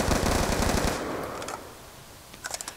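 Automatic weapon fire in the video game Black Ops 2: a loud, rapid sustained burst, then a pause and a few short clustered shots at the end, with no talking.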